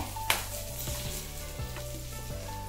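Curry leaves sizzle steadily in hot oil for lemon rice, a close, continuous crackling fry with faint stirring and a sharp pop near the start.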